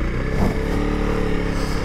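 A 2021 Honda CRF300L Rally ABS motorcycle engine runs steadily while riding, a constant low droning hum with a slight rise early on, loud and continuous with no talking.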